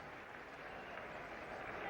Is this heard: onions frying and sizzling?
no